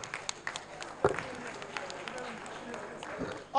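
Audience at a regional delegates' conference applauding: a steady, dense patter of many hands clapping, fairly faint and somewhat distant, with a few sharper individual claps standing out and a swell at the very end.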